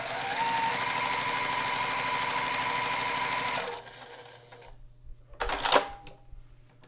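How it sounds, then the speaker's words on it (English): A sewing machine stitches a quarter-inch seam across quilt blocks, a rapid steady whirring run for several seconds before stopping, followed by a brief clatter, heard close and without talk. "So I'm just going to sew a 1/4-inch seam across here."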